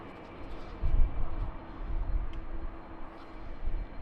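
Airliners landing at Amsterdam Schiphol Airport, Airbus A350 and A330 jets, a low distant engine rumble rising and fading as an aircraft passes, with steady background roar and no talk.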